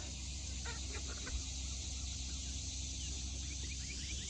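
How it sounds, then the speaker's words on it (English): Hens cluck in short, soft bursts against a steady outdoor hum, with brief chirps scattered throughout. "Chickens."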